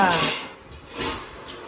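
Glass dishes being scrubbed and washed in a home kitchen: a brief, close burst of scraping and soft clattering, rising again after a short lull.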